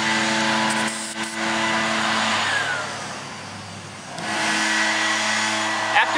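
Air compressor running to reinflate a plugged tire to 44 psi, a loud steady motor drone with a tonal hum that dips briefly midway before resuming.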